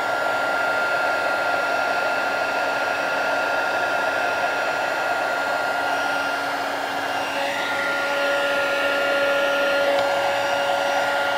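A heat tool warms a card for gilding flakes, its steady, close fan whine and airflow hiss running continuously, with a slight change in pitch partway through.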